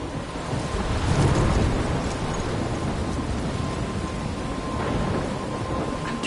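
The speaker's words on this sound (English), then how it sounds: "I'm trapped in a storm?" A thunderstorm in the Life Is Strange video game: steady heavy rain and wind with a low rumble of thunder swelling early on, continuous and fairly close, no voices.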